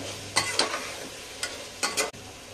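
Ground garam masala is stirred into a sizzling soya pulao masala with yogurt in a pan: a quiet, steady fry punctuated by a handful of quick, crisp spoon scrapes against the pan.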